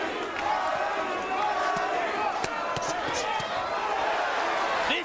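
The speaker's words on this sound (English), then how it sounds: "Crowd trying to pick Arturo up." Boxing crowd at a knockout fight between Arturo Gatti and Wilson Rodriguez, a dense roar of cheering and shouting throughout, with a commentator talking over it and sharp thuds and slaps cutting through.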